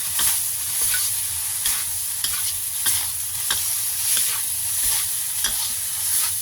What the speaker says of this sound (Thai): น้ำมันงานิดนึง ต้นหอมซอย ผัดเลยจ้ะ